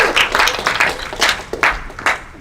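A small audience claps for an event winner, a quick, scattered burst of hand claps, fairly close and lively, with a faint voice underneath.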